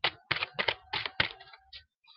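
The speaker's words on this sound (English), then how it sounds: "let me just shuffle a little bit more" Tarot cards being shuffled by hand in a series of quick riffling bursts, about five distinct clattering pulses with short pauses between, close and moderately quiet, no voices.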